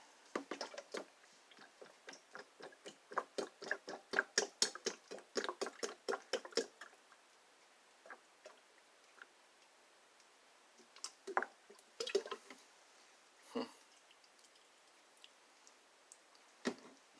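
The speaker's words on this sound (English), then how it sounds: "Let that drip down there pretty good, get every last drop out." Transmission fluid drips from an upturned quart bottle during a Honda transmission fluid drain and fill. A rapid run of small, close ticking drips slows into sparse, irregular drops, then a few last louder plops.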